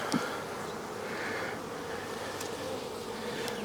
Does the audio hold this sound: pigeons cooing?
no